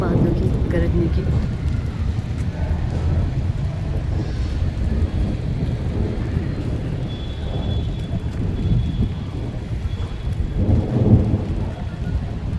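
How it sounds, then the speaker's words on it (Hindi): Continuous rain with deep rumbling thunder rolling in and out, building to a louder swell near the end. "कितनी तेज़ आवाज़ आ रही है ना बादलों की गरजने की।"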